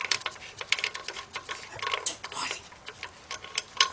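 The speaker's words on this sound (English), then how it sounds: "let's take our little bolt out of here for the top of the alternator" Rapid, rhythmic clicking of a ratchet wrench loosening the top bolt of an alternator on a Nissan Rogue, Altima or Sentra, close and crisp with steady ticking bursts and no talking.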